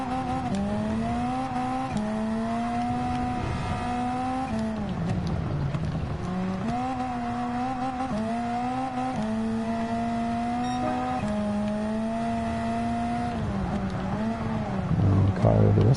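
A 635-horsepower front-wheel-drive touring car races in Gran Turismo 7 at Lago Maggiore, its engine whining steadily through repeated upshifts and rising revs with wheel spin, loud and continuous throughout.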